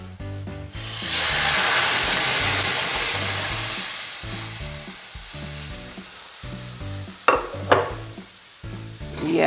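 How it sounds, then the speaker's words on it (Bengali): Boiled dal is poured into a hot pan over a low gas flame and bursts into a loud, hissing sizzle. The sizzle fades gradually, with a rhythmic low rumble beneath it and a few sharp clatters near the end. "এই যে ডালটা আমি কুকারে সেদ্ধ করে নিয়েছি এবার এটার মধ্যে আমি ঢেলে দেবো"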